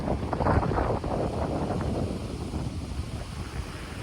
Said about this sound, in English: yeah, certainly wind has certainly picked up